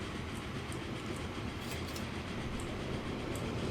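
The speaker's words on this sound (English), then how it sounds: "It's good to see these trains going full pell-mell." Trains running in the video game Transport Fever 2, a steady rolling rumble with faint clickety-clack of wheels on rail, continuous and moderately loud with no talk.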